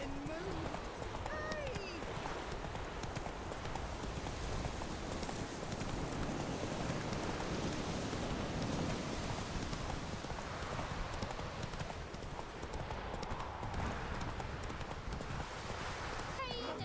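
Roach, the horse in The Witcher 3, gallops with a steady, rapid clip-clop of hooves under light wind noise throughout.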